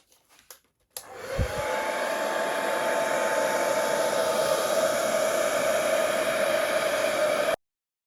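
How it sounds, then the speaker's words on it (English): A hair dryer switches on with a click and blows a steady, loud whooshing whir for several seconds, pushing white acrylic pour paint across a canvas, then cuts off abruptly. "So I'm just going to blow that out with the hairdryer."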